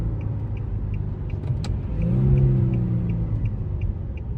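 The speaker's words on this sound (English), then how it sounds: "Oh, that wasn't a bad downshift." A new car with a VQ engine idles and rumbles steadily, then swells briefly as it downshifts and revs before settling again, heard close from inside the cabin.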